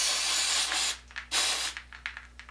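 CRC QD electronic cleaner sprayed onto an antique oil can spout, a loud close aerosol hiss lasting about a second, then several shorter bursts and spurts trailing off.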